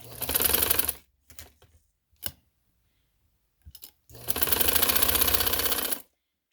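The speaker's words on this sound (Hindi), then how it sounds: "यहाँ आके हम एक टांका लेंगे बस, सुई का ना एक लेंगे।" A sewing machine taking stitches on a leaf frill for trousers gives two loud bursts of rapid mechanical whirring, separated by a quiet gap with a few scattered clicks and handling noises.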